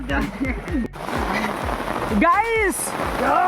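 Heavy rain patters continuously over muddy, flooded ground while a few soft knocks and brief voice-like sounds come and go over the wet hiss.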